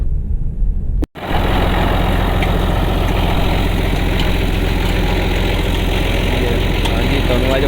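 A tractor engine idles steadily while driving a tubewell bore pump in a Pakistani village, a loud, continuous low-pitched rumble that cuts out briefly near the start and then resumes unbroken.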